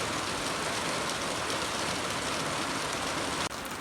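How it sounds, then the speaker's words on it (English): Light rain falls steadily as an even, continuous hiss that does not pause, briefly dipping near the end, with no voices. "That was just a small rain, but rain nonetheless."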